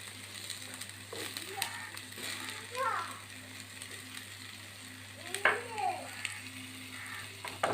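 Sliced onions hit hot oil in a pan for a homestyle butter chicken, giving a steady sizzle with scraping stirs and light clatter, and a voice speaks briefly now and then over the cooking.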